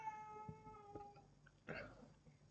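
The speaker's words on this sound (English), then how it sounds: "my cat likes to cry when I'm recording" A house cat meows indoors, a short wavering cry followed by a huffing, cough-like sound, faint and close in a quiet room with no talk.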